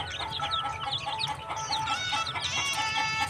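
Free-range native chickens and hens cluck steadily in a busy farmyard, several birds overlapping in repeated clucks with a faint rooster crow, no voices.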